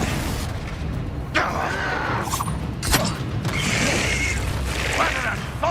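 Confringo fire spell blast in the Hogwarts Legacy video game, a sharp burst near 1.4 s and another near 2.9 s among crackling mechanical clatter and whooshing effects, with continuous game noise underneath.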